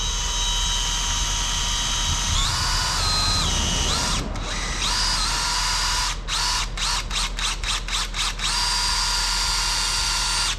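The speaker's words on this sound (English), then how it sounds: "I'm basically gonna weave them together with my drill." A power drill twisting galvanized wire strands together whines steadily at high speed, then stutters through a run of quick on-off bursts before resuming a continuous loud spin.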